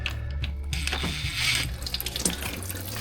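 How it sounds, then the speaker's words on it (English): Transmission fluid runs from a loosened corner of a Ford F150 transmission pan. It makes a steady, close trickling splash for a few seconds, with faint mechanical clicks and no speech. "We're already starting to drip from this corner, so we'll go ahead and let that corner come off first."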